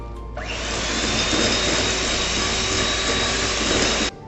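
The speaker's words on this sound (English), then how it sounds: "Now we have to whisk it again." An electric whisk drones steadily for about four seconds, close and loud, as it beats butter, sugar, egg and vanilla essence into cookie dough, starting and stopping abruptly.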